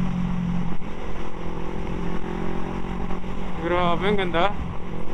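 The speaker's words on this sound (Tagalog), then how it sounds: "quick appreciation lang sa motor na to" An NK400 motorcycle with a loss-of-power fault cruises along a provincial road with a steady engine drone and wind rush, while a rider talks over it.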